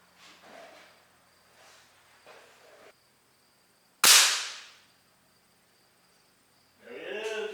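A single sharp, loud crack from a Diana Bandit .177 PCP air pistol fired at a target, decaying over about a second, after quiet handling noises; someone speaks briefly afterward.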